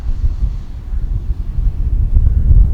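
Heavy wind buffets the microphone with a low, rumbling roar that gusts and swells throughout, at an RC glider flying field.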